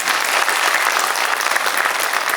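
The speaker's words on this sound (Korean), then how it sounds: "여러분 박수 한번 쳐주십시오." Audience applause at a talk about using the underground space of Daechi neighborhood park, a dense, steady clapping from a crowd filling the whole moment without a break.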